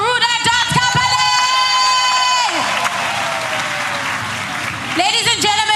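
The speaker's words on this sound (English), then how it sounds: "please give another round of applause for Ruda Dot Company!" Loud audience applause at a political party event in eThekwini mixes with cheering and whooping, accompanied by a sustained tonal horn or vuvuzela-like blare that drops out midway and returns at the end.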